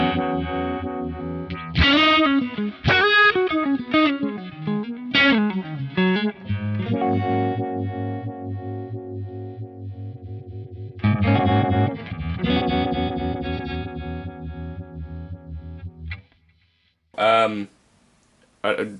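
An electric guitar runs through a Strymon Ultraviolet effects pedal in blend mode, with chords and bends shimmering and warbling under a thick, slightly distorted tone, then fading into a brief quiet gap and a short final strum.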